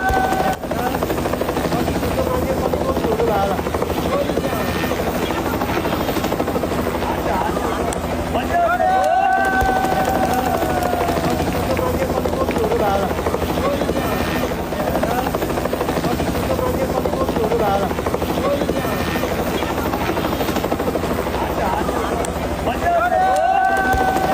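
A helicopter hovers during a flash flood rescue in Nepal, its rotor drone loud and continuous throughout, with wind buffeting the microphone and voices speaking beneath the engine noise.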